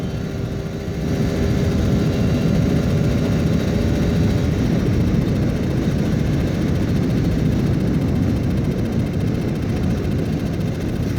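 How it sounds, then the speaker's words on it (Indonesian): Vespa scooter exhaust droning steadily while riding, loud and continuous with heavy low rumble and wind buffeting, no talk. "Suara knalpotnya tuh benar-benar kedengar."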